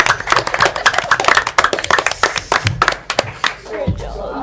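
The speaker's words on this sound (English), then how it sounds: "Everybody give a big round of applause." Clapping at an opened meeting, a quick burst of sharp, fairly close hand claps with a few voices and talk mixed in, tapering off near the end.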